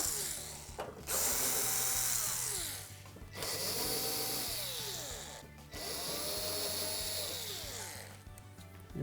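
A power driver backs out Phillips screws from a Samsung smooth top range's rear console panel in three sustained whirring bursts with falling pitch, separated by short pauses, loud and close.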